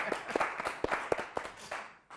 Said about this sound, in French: on applaudit quand même le pasteur et le docteur